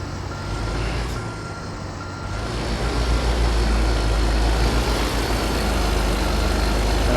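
A truck backs up near a job site, its reversing alarm beeping steadily over a loud, rumbling diesel engine that grows heavier after a couple of seconds.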